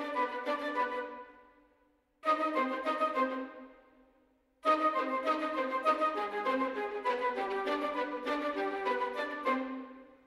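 A programmed orchestral arrangement in Logic Pro X plays with second violins added, soft and fairly quiet, in three swelling phrases separated by brief decays into silence.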